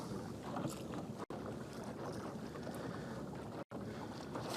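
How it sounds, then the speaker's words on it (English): A big ferry or charter boat passes on the water, a faint, steady wash of engine and water noise, heard from a distance with wind across the microphone. "Looks like a ferry or charter boat or something. Big boat going through."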